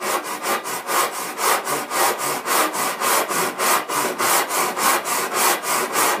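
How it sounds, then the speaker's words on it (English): A hand saw cuts through plaster cornice with a steady back-and-forth rasp, about three strokes a second, close and clear with no talking. "But a regular saw will do it."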